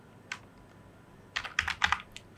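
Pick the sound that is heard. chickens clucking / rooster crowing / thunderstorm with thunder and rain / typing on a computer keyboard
typing on a computer keyboard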